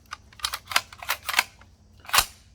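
A Kel-Tec RDB 5.56 bullpup rifle has its action cycled with no magazine inserted, giving a quick series of sharp metallic clicks and clacks, close and isolated.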